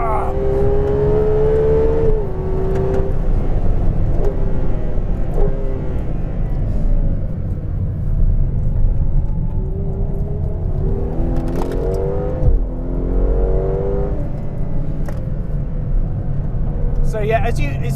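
Ferrari 812 Competizione engine at full throttle on the Fiorano track, heard from onboard, its rising revs sweeping upward in loud, continuous pulls with brief lifts between them.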